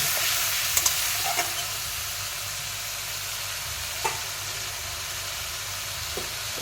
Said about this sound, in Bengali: দিয়ে দেব ভিজিয়ে রাখা মশলাটা। মশলাটা একটু কষিয়ে নেব।